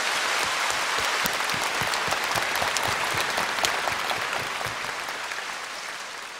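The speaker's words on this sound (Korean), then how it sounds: "우리 주님께 감사 박수를 드리십시오." Sustained applause from a church congregation during a Korean sermon, dense steady clapping that fills the whole span and tapers slightly toward the end, with no voices over it.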